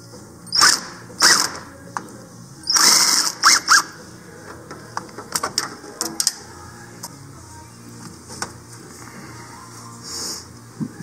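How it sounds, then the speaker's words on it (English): A tool works the inlet pipe connector on a Maverick X3 fuel system, giving short squeaks and squeals, some clicks and small metallic knocks in irregular bursts, close by and with no talking. "I'm going to loosen up the connector that's holding the pipe on, the inlet pipe right there."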